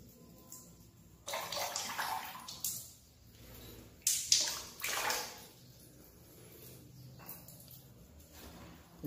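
Ganga water from Prayagraj being poured into and mixed with water in a bucket at home, a few short bursts of splashing and pouring separated by quiet pauses, close and fairly soft.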